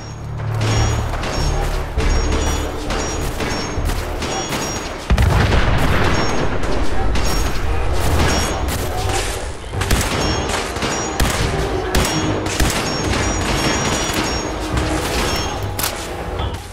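A caravan firing guns in Fallout 4, a loud, dense fusillade of rapid shots and booming impacts that continues throughout without pause.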